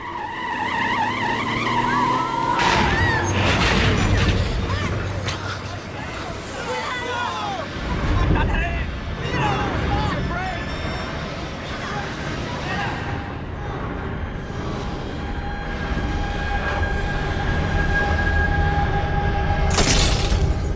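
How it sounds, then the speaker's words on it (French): A bus colliding head-on with a tram: loud skidding and screeching build to a violent crash with shattering, over a dense noisy background with voices. "L'autobus percute un tramway de plein fouet."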